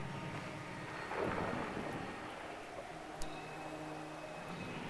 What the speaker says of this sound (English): And it does start to rain as I was filming that here